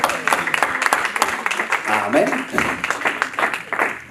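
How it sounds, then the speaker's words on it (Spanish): Audience clapping at a Bible study, bursts of hand claps mixed with a voice speaking over them, close and lively throughout. "Dale un aplauso fuerte al Rey de Reyes."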